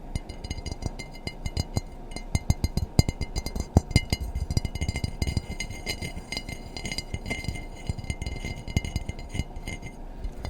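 A glass storage container clinks and rattles repeatedly while energy-bite balls are made in a kitchen, a close, fairly quiet run of sharp taps and knocks over about ten seconds with no talking.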